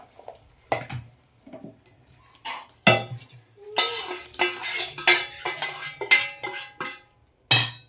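Cooked okra (ladies finger) palya is scraped from a pan onto a plate with a metal spatula, giving a string of clinks, scrapes and knocks in irregular bursts, close by and without speech.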